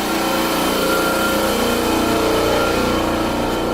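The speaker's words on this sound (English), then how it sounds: "the compressor is really loud" An air compressor roars loud and steady throughout while a Toyota MR2 is being spray painted, a constant mechanical drone with no pauses or voices.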